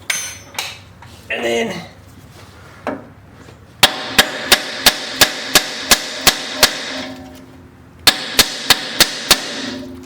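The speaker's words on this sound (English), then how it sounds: "then you take your hammer," A hammer strikes metal parts during a Jeep WK suspension lift install, first after some rustling and a short spoken phrase, then two rapid series of evenly spaced, sharp ringing blows close by.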